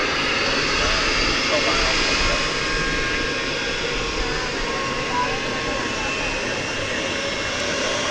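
An airplane roars steadily on the runway at DFW Airport at night, a loud continuous engine rush with no break.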